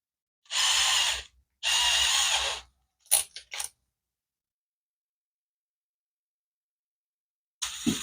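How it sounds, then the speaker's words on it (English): A power drill whirs in two sustained bursts, followed by a few short blips, during a brake caliper service. Each burst is loud and close, with silence in between and no talking. "take our drill."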